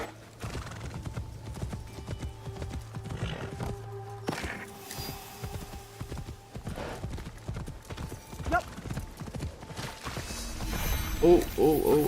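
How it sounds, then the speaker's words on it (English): Steady clip-clop of horse hooves trotting close by in the video game Assassin's Creed Shadows, with a few snorts and a whinny, plus some clattering mechanical noises. "it's Yasuke's horse"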